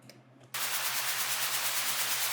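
A white noise riser made in Serum 2 with reverb, a faint hiss suddenly swelling into a loud, steady wash of bright noise that holds to the end.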